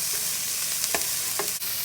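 Minced garlic, salt, pepper and spices are stirred in a pan over medium heat for keto chili. A soft, steady sizzle runs throughout, with a few brief scraping strokes of the utensil and no talk.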